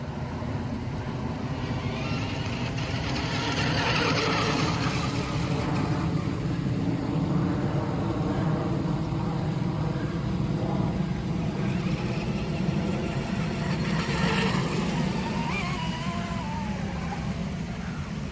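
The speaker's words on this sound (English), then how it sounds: "Sure sounds like a jet to me." The Micro Drifter's jet-like engine gives off a continuous, loud whining roar up close that holds steady for the whole stretch, with slight swells as it passes, no voices.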